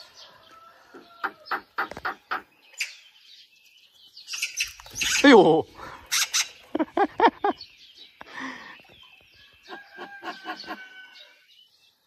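Young magpie chattering in harsh rattling bursts outdoors near a nest, a dog nearby, with several close calls across the span and a person's brief exclamation among them.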